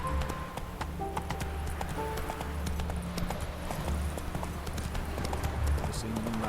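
Hoofbeats of Roach, the horse in The Witcher 3 video game, clip-clop in a steady galloping rhythm alongside game music and ambient effects, with a voice speaking over them.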